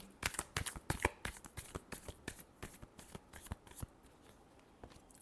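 Tarot cards are shuffled by hand in a rapid run of crisp, close riffling slaps and flutters that thin out toward the end, with no voices.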